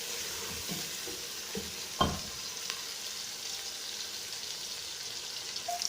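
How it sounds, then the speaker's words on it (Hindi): Garlic-ginger paste frying with onions in a pan for chicken biryani: a soft continuous sizzle with a few stirring scrapes and knocks, close and steady without talk. "लहसुन अदरक के पेस्ट को भून लेते हैं प्याज़ों के साथ"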